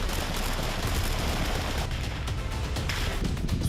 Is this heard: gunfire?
yes